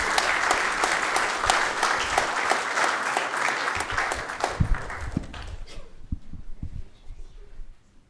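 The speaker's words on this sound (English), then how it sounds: "if we can give them a big round of applause" Applause from attendees in a city council chamber, dense clapping for several seconds that thins into scattered individual claps and low rumbling handling noise as it dies away.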